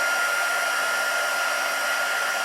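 A heat embossing tool blows steadily over craft paper, a continuous loud airy whir with a faint high whine, unbroken from start to finish with no talking.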